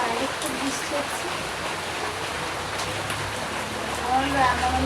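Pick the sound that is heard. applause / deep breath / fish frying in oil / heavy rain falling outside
heavy rain falling outside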